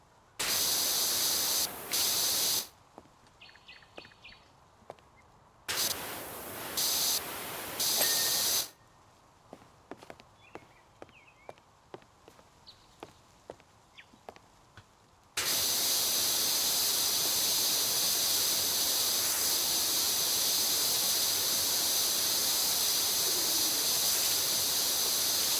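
A pressure washer sprays in Power Wash Simulator, in loud steady hissing bursts: a few short blasts, a quiet stretch of faint clicks, then one long unbroken spray to the end.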